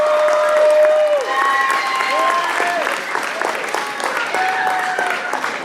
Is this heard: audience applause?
yes